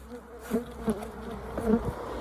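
Honeybees buzz around hives at an apiary while new colonies are being set up, a steady close insect drone with a few louder swells as bees pass near.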